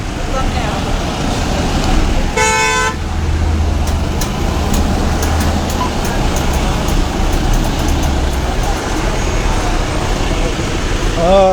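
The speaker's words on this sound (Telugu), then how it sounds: "ప్రస్తుతం వారధి మీద ట్రాఫిక్ స్లోగా నడుస్తుంది." Slow road traffic on the Vijayawada bridge gives a steady rumbling wash of engines, broken by a sharp vehicle horn blast early on and scattered clicks, with faint voices in the background.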